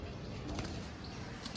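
Army pigeons coo softly at a distance in a noisy room, low murmuring calls barely rising above a busy background hum.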